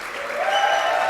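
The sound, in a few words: applause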